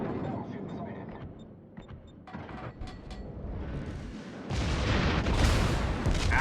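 Ship guns fire in the naval video game World of Warships, scattered sharp shots and rumbling blasts that swell into a louder, sustained roar toward the end, with a voice speaking at times.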